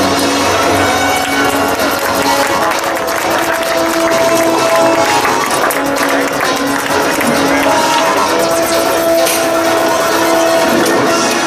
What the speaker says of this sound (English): let's hear a huge round of applause